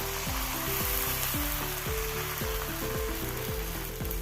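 Appam batter hits a hot pan with a steady, dense sizzle that stays loud and even throughout, with a low repeating tonal hum from a nearby appliance running under it.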